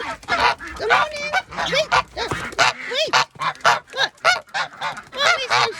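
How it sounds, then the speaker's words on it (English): Several geese and ducks honk loudly and close by in rapid, irregular bursts, with a person briefly speaking a greeting between the calls. "Let's say hello to the ducks, is it?"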